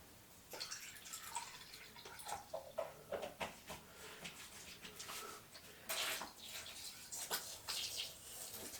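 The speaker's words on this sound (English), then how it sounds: "Give the water bowl a fill." Water is poured into a Theraphosa tarantula's water bowl, a faint run of small drips and splashes in uneven bursts close by.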